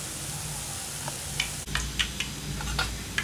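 Kara boondi frying in hot oil, giving a steady close hiss dotted with small scattered crackles and pops.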